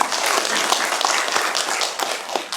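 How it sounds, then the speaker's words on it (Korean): Dense crowd applause welcoming a guest at a climate and carbon-neutrality policy forum, a continuous loud patter of many hands lasting several seconds. "박수로 맞이해주세요."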